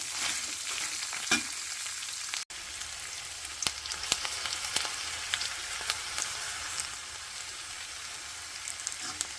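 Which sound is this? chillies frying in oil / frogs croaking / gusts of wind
chillies frying in oil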